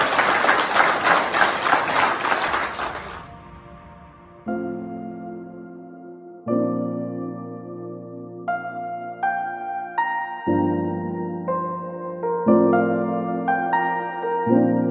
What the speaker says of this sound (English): Give yourself a big round of applause, please.